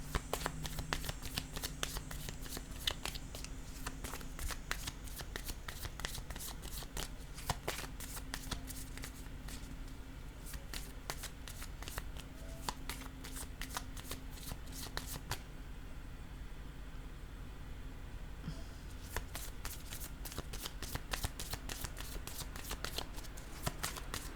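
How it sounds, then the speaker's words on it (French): Playing cards handled and laid down, with frequent quick crisp snaps and flicks and soft card slides that continue steadily throughout, heard close and quiet, without voices. "Je vais déposer une autre carte ici."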